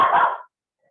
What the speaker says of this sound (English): That's my dog, sorry.